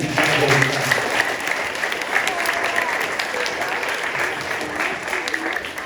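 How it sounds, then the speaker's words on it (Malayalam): Applause at a church Sunday school VBS theme presentation, a sustained burst of many hands clapping from a gathered crowd, with voices mixed in. "ഈ ഭവനം ചമഞ്ഞവർക്ക് വേണ്ടി ഒരു നല്ല ഒരു കൈയടി"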